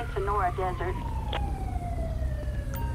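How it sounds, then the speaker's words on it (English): Ambulance siren in GTA 5 rising into a steady wail that glides slowly downward as the emergency vehicle approaches, loud over a low rumbling game backdrop with a few short tones. "Oh, we got an ambulance coming."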